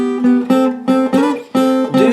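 An acoustic guitar plays a chord transition, a short run of about seven distinct plucked strums in a quick, uneven rhythm, close and clear with no voices.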